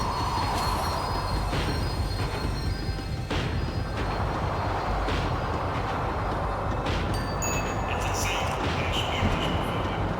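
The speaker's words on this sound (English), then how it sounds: "The tram was slowing down, and I'd only just gotten on board." Tram slowing on rails in Max Payne 3, a loud continuous rumble of wheels with squealing and scraping metal and clattering bursts, sustained close throughout.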